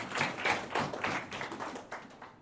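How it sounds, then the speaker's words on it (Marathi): A church congregation claps along in thanks to God, a steady run of muffled, rhythmic claps at moderate volume with no voices over them. "टाळ्या वाजून देवाला धन्यवाद देऊया"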